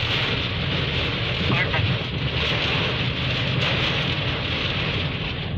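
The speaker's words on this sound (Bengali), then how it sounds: "প্রচন্ড বাতাস, প্রচন্ড বাতাস।" Very strong storm wind in Jeddah roars loudly and without a break, buffeting close to the microphone, with a voice faintly under the gusts.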